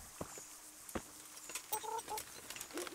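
Chickens cluck repeatedly in the medieval video game Kingdom Come: Deliverance, with short bursty calls and a few louder squawks over quiet ambient background, with no talk.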